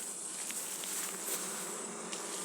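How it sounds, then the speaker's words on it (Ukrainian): A steady, dense buzzing of many Carniolan honey bees close by, continuous and fairly even throughout, with no voices. "Я хочу показати, як бджола сидить."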